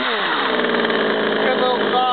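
A Craftsman 42cc homeowner chainsaw fires up and runs steadily close by, its engine buzzing at an even pitch that rises slightly toward the end.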